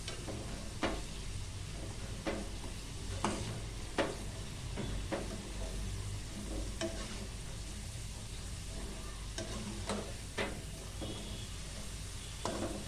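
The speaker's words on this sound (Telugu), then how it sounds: "సిమ్లో పెట్టుకునే బాగా కాల్చుకోవాలా, డీప్ ఫ్రై చేసుకోవాలా." Potato french fries deep frying in oil, a soft continuous sizzle with scattered stirring clicks and scrapes, moderately quiet and close, with no talking.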